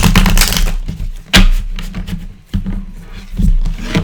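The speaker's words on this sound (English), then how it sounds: "I'm going to do a shuffle." Tarot cards being shuffled by hand, a series of soft papery riffling bursts and taps repeating over a few seconds, close and fairly loud, with no talking.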